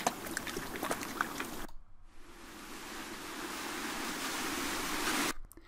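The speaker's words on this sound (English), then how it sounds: "So we've got 2 kind of beach lapping wave type scenarios going on." Recorded beach waves lapping on the shore, a broad steady wash of surf that cuts out abruptly, then swells back louder and fuller before stopping again.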